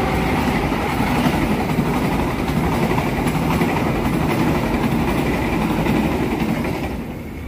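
A train passes close by in Indonesia, a steady heavy rumble with rail clatter that holds for several seconds before easing slightly at the end. No one speaks.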